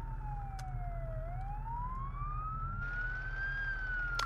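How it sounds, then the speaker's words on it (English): Police car siren in the BeamNG driving game, a single wailing tone that dips and then rises steadily over a low, constant engine rumble. "I heard a police car. What's going on?"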